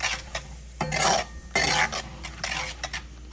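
Finely chopped curry leaves are sautéed briefly in a pan while cooking samosa chaat. A spoon scrapes and stirs against the metal in repeated bursts, with a faint sizzle between the strokes and no talking.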